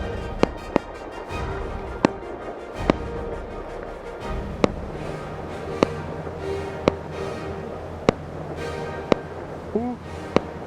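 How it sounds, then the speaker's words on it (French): Fireworks serve as artillery in an outdoor airsoft game, cracking in a string of sharp, separate bangs spaced a second or two apart over a steady outdoor background, with faint voices between them. "Les feux d'artifice, si vous préférez, font office d'artillerie"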